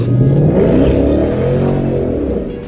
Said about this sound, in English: Let's see if we can get a cold rev out of this thing.